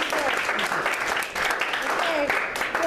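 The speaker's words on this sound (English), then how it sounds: "All right, now you can clap." An audience claps after the end of a debate, a dense sustained applause that continues throughout, with voices mixed in.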